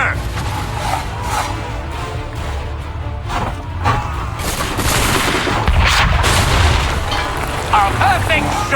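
Gunshots in Assassin's Creed 3 Remastered: a series of booming reports and cracking volleys, some near and some farther off, over rumbling battle noise with brief voices mixed in.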